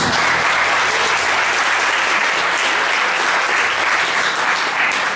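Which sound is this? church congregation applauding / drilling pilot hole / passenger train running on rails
church congregation applauding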